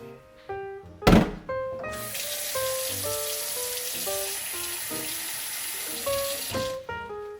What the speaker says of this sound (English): I just filled it near the top with water